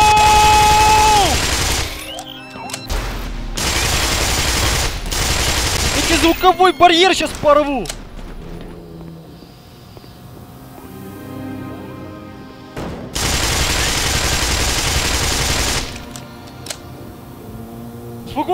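Bursts of automatic gunfire from the Black Mesa shooter, several loud sustained volleys separated by pauses, with someone talking excitedly between them.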